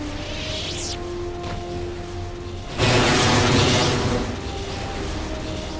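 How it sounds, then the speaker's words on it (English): A loud, dense burst of noise bursts in around the midpoint during play of Star Wars: Knights of the Old Republic II, swelling briefly over steady background game ambience and electronic tones before easing back. "There has been an explosion at the main behavior core."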